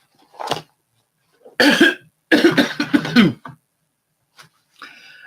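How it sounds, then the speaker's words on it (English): Several harsh, close coughs in short bursts, separated by brief silences, ending with a softer breathy sound. "Pardon me for still coughing."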